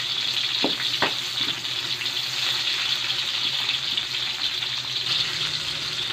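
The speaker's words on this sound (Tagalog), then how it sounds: "Sunod na po natin ang ating sibuyas." Onion hits a hot pan for an adobong pata, producing a continuous bright sizzle with a couple of early clacks from the utensil, close and even throughout, with no voices.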